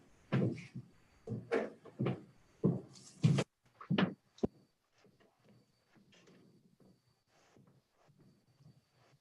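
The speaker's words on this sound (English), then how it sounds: "Just close the door." A series of sharp knocks and bumps, like a door being pushed shut and latched, about eight close thuds in quick succession followed by faint rustling and quiet room sounds.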